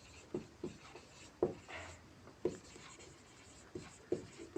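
Handwriting on a surface during a physics lesson, a series of short scratchy pen strokes in an uneven rhythm, close and quiet, with no voices.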